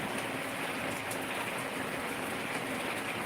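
A downpour in Nanded district keeps up a dense, unbroken roar of falling rain, close and loud throughout.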